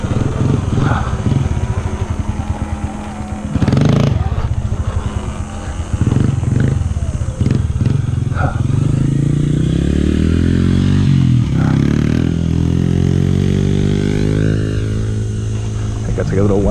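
A small 110cc motorcycle engine revs loudly at a mini moto park, rising and falling in pitch, with an extended climbing rev toward the end. Speech and clattering are mixed in.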